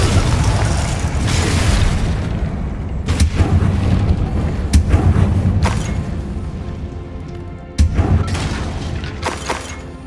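Confringo blasting spell explosions in the game Hogwarts Legacy, heavy booming blasts with sharp cracking hits landing every second or two over a dense, rumbling battle din, loud and close.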